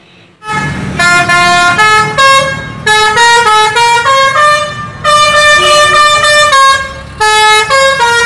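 A toy sand truck's electronic horn blares loudly and close in a long series of melodic, multi-note honking blasts separated by short gaps, with no talk.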